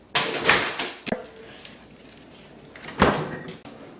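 A trained dog closes a door on command at home, with a couple of sharp thuds and knocks of the door moving and shutting, then a quieter stretch.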